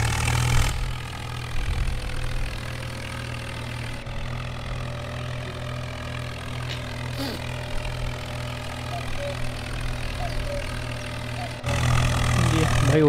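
A 855 tractor engine idles and runs in Farming Simulator 19, a steady low hum with a constant drone throughout and slight shifts in level, fairly quiet overall.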